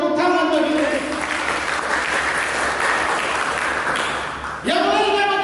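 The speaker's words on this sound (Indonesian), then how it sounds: "Berikan tepuk tangan bagi mereka" A church congregation claps loudly and steadily for several seconds, and the applause tails off as a voice comes back in near the end.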